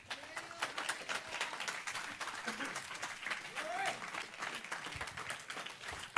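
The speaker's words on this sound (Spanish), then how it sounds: "Den un aplauso fuerte al que vive." A church congregation at a Sunday evangelistic service breaks into loud clapping, with scattered cheers and voices mixed in, a busy crowd texture that stays lively throughout.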